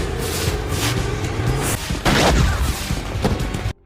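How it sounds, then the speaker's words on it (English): Fireworks shots crackle and boom in a rapid, dense barrage, loud and continuous with heavier bursts midway, before cutting off abruptly. "suddenly Mike came using shots from fireworks"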